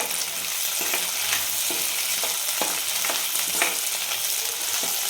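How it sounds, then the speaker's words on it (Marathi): Peas with onion and curry leaves frying in oil in a pan, a loud continuous hissing sizzle with occasional soft scrapes of stirring, close and steady, no voices. "नंतर वटाणे टाकणार आहे ते पण तेलावर छान परतून घ्यायचे"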